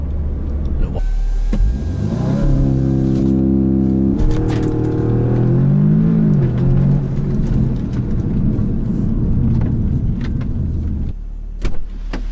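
A 2019 Audi S3 engine revs up and settles over steady exhaust rumble, loud and close, with rising and falling pitch as the throttle is worked.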